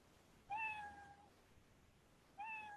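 Two synthetic cat meows from an IoT simulation, each a short tonal mew with rising-falling harmonics, the first longer and the second cut short near the end, played fairly quietly with no talking.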